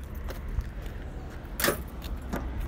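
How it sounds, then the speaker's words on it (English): Keys jingle briefly nearby in a quiet room, a short metallic rattle with a sharper burst near the middle and no talking. "Got some keys."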